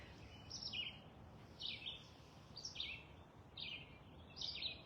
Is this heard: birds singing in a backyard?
yes